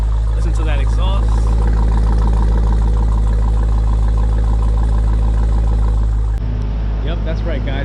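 A Jeep Grand Cherokee Trackhawk's exhaust rumbles deeply and steadily at Atco Dragway, loud and close with a slight shift near the end, while someone talks over it.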